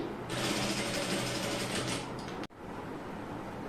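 A sewing machine stitches a twice-folded neckline piece in one steady close run of rapid mechanical chatter, stopping abruptly with a click, followed by quieter room noise.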